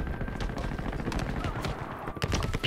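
Gunfire from a first-person shooter video game, dense bursts of shots over a steady game soundscape, with players talking over it.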